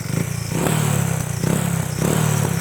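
A Honda Wave 100s motorcycle with a modified exhaust pipe, its engine blipped in repeated revs, roughly three rises with a throaty, popping exhaust note, close by and alone.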